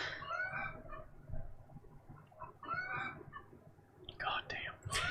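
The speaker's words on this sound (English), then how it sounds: "we got chickens just yapping in the back" Chickens clucking and squawking in the background in bursts, fairly faint and close, mixed with low murmured speech.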